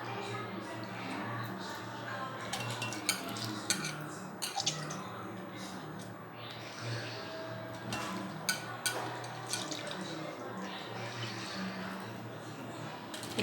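Soaked soya meal maker chunks are squeezed by hand in a bowl, giving soft, repeated wet squishes and drips with small clicks, steady and close, under a quiet room background.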